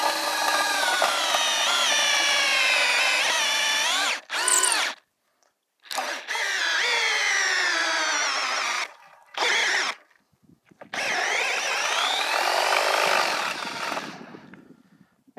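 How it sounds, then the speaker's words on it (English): A power drill turns an auger bit into a hay bale for sampling, a loud steady whine rising and falling in pitch across several long bursts separated by brief pauses, close and alone. "You'll place the drill against the bale, and you'll start to work right on in with your auger and your drill."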